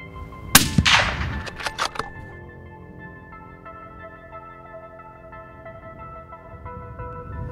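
A single sharp rifle shot cracks out at a wild pig during a hunt, loud and close, followed by a brief ringing echo and quiet outdoor ambience with no talking.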